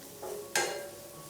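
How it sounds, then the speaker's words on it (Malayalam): Garam masala and spices sauté in a pan for an egg curry, heard as a brief soft sizzle with one short scrape of stirring. "അപ്പോൾ ഇത് ഇത്രയും ചേർത്ത് കൊടുത്തിട്ട് വീണ്ടും ചെറുതായിട്ട് ഒന്ന് വഴറ്റി കൊടുക്കാം."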